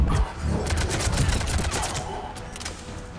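Rapid automatic gunfire from the sci-fi shooter Mass Effect 3, loud and continuous with dense rattling bursts throughout.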